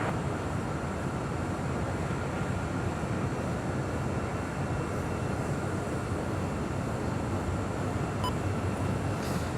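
Airliner noise at Los Angeles International Airport as a jet lands on runway 25 left: a steady, broad roar that holds even and fairly loud for the full stretch, with no talk.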